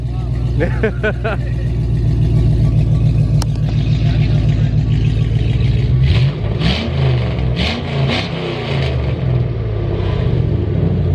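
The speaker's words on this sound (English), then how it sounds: "tell him to cold start his truck" A truck engine cold-starts and rumbles loudly at idle with a deep, throbbing, muffled exhaust, then revs up in several sharp bursts. Voices talk in the background.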